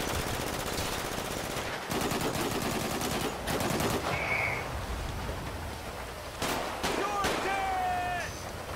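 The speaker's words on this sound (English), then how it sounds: "The cops are shooting at us now." Rapid automatic gunfire from police in a GTA roleplay video game rattles in dense bursts over a constant background hiss, with voices talking between volleys.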